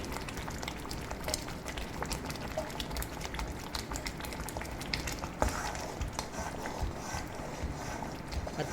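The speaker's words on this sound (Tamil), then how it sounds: "கத்திரிக்காய் போட்டு மறுபடியும் ஒரு கொஞ்சம் வேகட்டும்." Brinjal kuzhambu, a Tamil eggplant gravy, simmers in a pot with soft, constant bubbling and occasional pops, faint and close with no talk over it.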